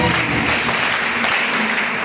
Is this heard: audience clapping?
yes